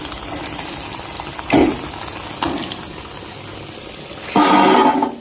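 Suji rings frying in hot oil, a constant crackling sizzle with a few louder bursts of bubbling as pieces are moved or added, close and clear with no talking.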